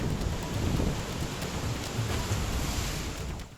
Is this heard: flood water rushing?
yes